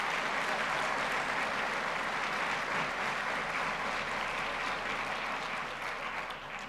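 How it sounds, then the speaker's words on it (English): An audience at a civic update meeting gives a long, full round of applause, with dense clapping that stays steady for nearly seven seconds and eases slightly at the end. "Let's give him an applause."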